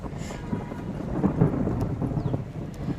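Deep thunder rolls on for a few seconds, a low, heavy rumble that swells in the middle, with rain pattering faintly underneath.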